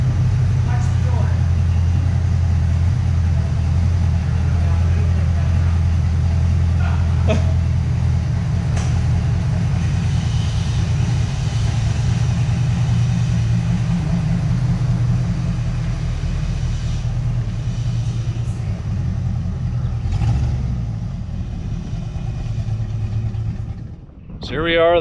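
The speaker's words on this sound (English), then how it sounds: "the car is moving underneath its own power" A 1986 Ford Mustang GT engine, running again after sitting for over ten years, rumbles steadily and loudly up close with a deep low drone, holding a continuous idle-like note throughout before a brief change near the end.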